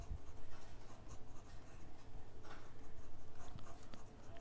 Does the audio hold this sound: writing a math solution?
yes